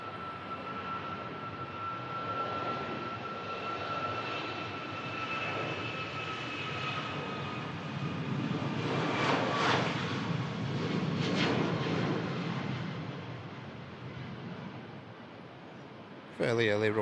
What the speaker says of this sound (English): Fairly early rotate from the Ryanair.